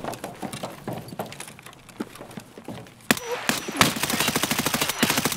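Gunfire in a video game, with scattered single shots early on, then loud rapid automatic bursts that crack close by and keep going steadily toward the end.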